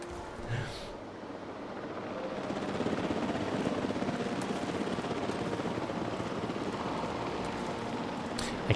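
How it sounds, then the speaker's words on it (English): Helicopter returning to a dinosaur park in the Jurassic World Evolution 3 video game: a steady rotor drone that rises and then holds, heard mid-distance under a continuous game ambience. "Please stand by for the returning helicopter."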